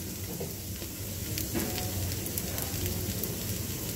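A traditional pancake fries in a pan with a little oil drizzled over it, giving a steady, close, rain-like sizzle with no talking.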